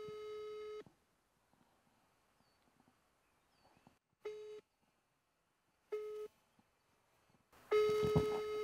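Repeated telephone call tones on an unanswered phone call, four separate electronic beeps of roughly equal length spaced by near-silent gaps, the last one louder and mixed with a burst of noise.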